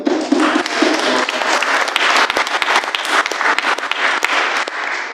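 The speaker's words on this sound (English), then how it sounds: "Good round of applause." Loud, dense applause from a crowd at an outdoor political rally against ULEZ zoning in Putney, London, a sustained wash of clapping lasting throughout with a few sharper claps standing out.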